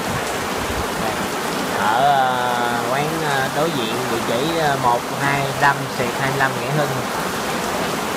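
Steady rain falls outside a grilled rice-paper street food shop on Nghia Hung street in Ho Chi Minh City, a continuous hiss running under someone speaking close by throughout.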